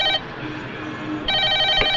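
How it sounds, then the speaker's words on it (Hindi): Telephone bell ringing in a Hindi film scene, two ringing bursts with a pause between, fairly loud and close, no talk over it. "शुभ मुहूर्त पर शुभ घंटी बजी है"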